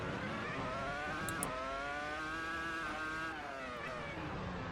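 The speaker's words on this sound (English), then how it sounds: "It's a V10 engine." A V10 race car engine accelerates hard uphill through first gear, its loud, close, sustained roar climbing steadily in pitch over several seconds with no voices.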